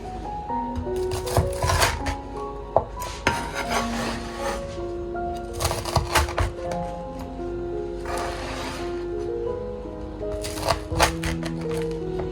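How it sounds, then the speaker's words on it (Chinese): Knife cutting crispy pan-fried red date glutinous rice cake on a chopping board, with repeated crunchy cracks and scrapes at irregular intervals over soft background music. "放在案板上，大家來聽一聽，特別的酥脆啊，再切成小塊"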